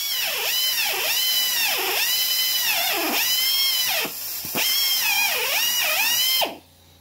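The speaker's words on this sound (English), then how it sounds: "So I'm going to drill it in wood with a 3/8 bit using a progressive flute bit" A Harbor Freight Chief 3/8 inch air drill, fitted with a 3/8 progressive flute bit, whines loudly as it bores into wood in several long bursts that dip in pitch under load, then cuts off into near silence.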